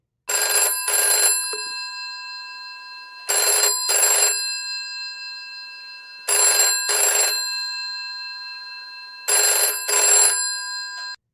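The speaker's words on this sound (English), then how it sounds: "Seconds later, a phone is heard ringing." A telephone rings in a private room, four loud close double-ring bursts with a bright metallic bell tone, evenly spaced about three seconds apart, with nothing else heard.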